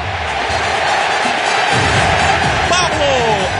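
The Strongest supporters roar in a packed stadium after a goal against Vélez Sarsfield in the 2014 Copa Libertadores, a steady, loud crowd din with whistles and chants, a commentator's voice running over it.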